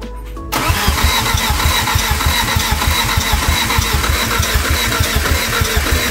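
A car engine fitted with a 36-1 trigger wheel cranks briefly after a moment of quiet, then catches and settles into a loud, steady idle with a regular pulsing beat close to the microphone.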